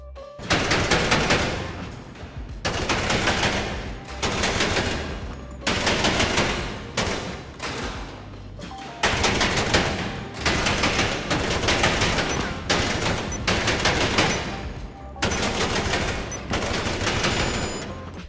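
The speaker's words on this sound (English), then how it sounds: "you want to make sure that you're doing those burst fires so you can control your fire and never miss a shot" Repeated bursts of automatic rifle fire from a drum-magazine gun in GTA Online, loud and close, each burst lasting one to two seconds with short gaps between, in a steady stop-start rhythm.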